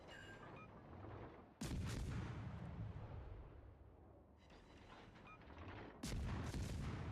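Heavy battleship main guns fire in World of Warships. Two sudden, loud booming salvos roll out and decay into long rumbles, with more distant gunfire and rumble between them.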